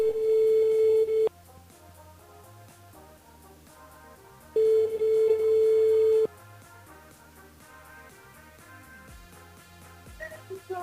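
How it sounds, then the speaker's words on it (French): A telephone line at a radio station switchboard sounds a long steady ringback tone, then a second identical tone after a pause, with quiet background music playing beneath. "Allez, on appelle Christine du côté de Sainte-Marie"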